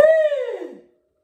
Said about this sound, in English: we're going to just send a gust of air nice and strongly through